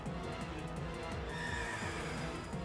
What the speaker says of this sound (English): It's barking. What the heck? Thought you were a horse, not a dog.